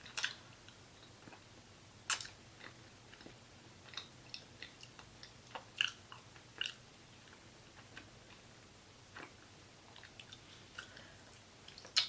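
Heart-shaped pasta being chewed close to the mic, with soft irregular bites and small sticky clicks scattered through a quiet room, no talking.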